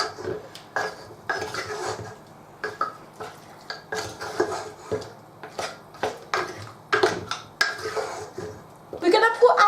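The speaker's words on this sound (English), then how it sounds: "give that a stir" A spoon clanks and scrapes around a pot of goat curry in rhythmic bursts, close and clear, with a bright metallic clatter at the very end.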